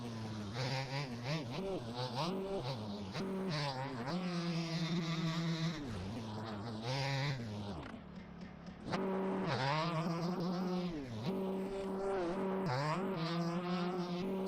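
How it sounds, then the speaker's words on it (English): Two-stroke dirt bikes in a motocross video game rev and whine with buzzy, rising and falling engine tones, loud and continuous, with a brief dip before the revving picks up again. "just how loud the two-strokes are compared to the other bikes"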